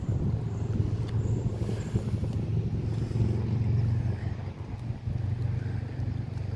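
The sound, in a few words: road traffic noise near a park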